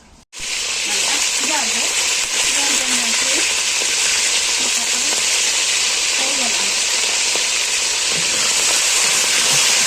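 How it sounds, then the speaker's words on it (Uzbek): Meat fries in its own juices with a little butter in a pan, a loud, continuous sizzle and spatter that runs nearly the whole time while a person talks faintly underneath. "O'zini suvi bilan va ozgina sariyog' bilan qovuriladi go'sht"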